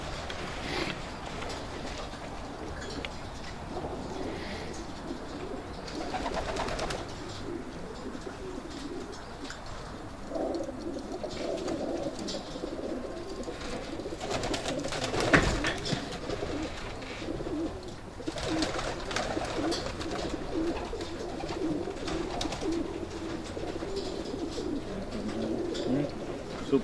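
Racing pigeons cooing throughout a breeding loft, a steady bed of soft, overlapping coos and rustling close by, with a few sharper knocks and flutters over roughly half a minute.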